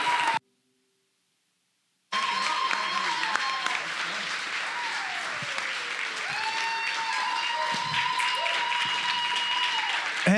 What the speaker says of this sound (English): Come on, clap, cheer, and celebrate as we welcome Pastor Jonathan.